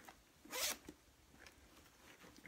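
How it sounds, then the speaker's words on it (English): A purse zipper is drawn open in one quick, bright rasp lasting about a quarter second, close by and alone. Faint handling rustles follow in a quiet room. "Now, this zipper part is where I'm going next."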